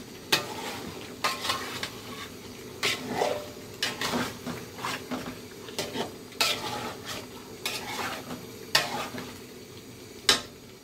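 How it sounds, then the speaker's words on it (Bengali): Beef sautéing with tomatoes in a pot for kala bhuna, with repeated sharp spoon scrapes and knocks against the metal over a soft continuous sizzle, close and steady, with no talk. "এখন কষাইতে থাকবো টমেটো দিয়ে"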